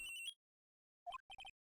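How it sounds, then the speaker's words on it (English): A cellular phone rings in the Phoenix Wright: Ace Attorney video game: a short synthetic chime, then a pause and several quick bright beeps, loud and alone. "Bring. Cellular phone."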